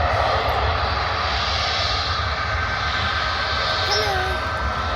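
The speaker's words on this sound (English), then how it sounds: "we've got a trio of Jet 2 planes, including one just about to take off" A Jet2 airliner takes off at Manchester Airport, a loud continuous engine roar with broadband rushing, heard from nearby and steady throughout.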